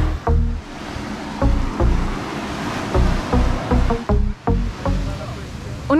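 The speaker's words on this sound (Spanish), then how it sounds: "Las olas están súper chiquitas y llegando solo hasta aquí." Small waves lapping gently on a calm beach at Ilha Grande, Brazil, with soft repeated washes of surf and wind noise, while a person talks over them throughout.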